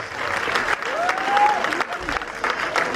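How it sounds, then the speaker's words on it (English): An audience at a burlesque show claps for a volunteer after a card trick, brisk applause with a voice briefly speaking over it before the clapping fades. "Let's give Jeffrey a big round of applause."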